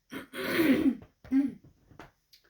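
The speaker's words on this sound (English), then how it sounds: "I'm clearing my throat" A person clears their throat with a rough, gravelly rasp, followed by a couple of shorter throaty grunts and a faint breath at the end.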